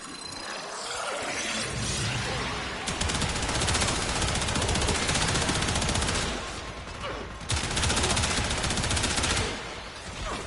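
Sustained automatic gunfire in Warframe, shooting at clones during a Mirage build test, loud and dense with brief pauses between long bursts.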